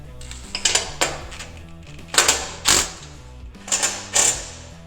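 Ratchet clicks in short bursts as bolts are snugged down to hold a Dodge Challenger's cat-delete exhaust onto the frame, close and metallic, several bursts with brief pauses between.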